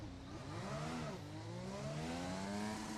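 High-pitched F1 car engine in F1 2021 revving and screaming, its whine climbing, dipping sharply around a gear change, then rising again, steady and alone.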